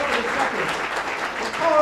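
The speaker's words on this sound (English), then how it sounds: "please clap for Dean Kinloch for me" An audience claps to welcome Dean Valerie Kinloch at a university meet-and-greet in Pittsburgh. Moderately loud applause runs for a short burst while a host keeps speaking over it.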